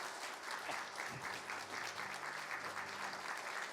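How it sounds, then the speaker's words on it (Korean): A church congregation claps to congratulate award recipients at a Sunday worship service, steady continuous applause from a crowd, fairly distant and even in level for the whole stretch. "박수로 축하해 주시기 바랍니다"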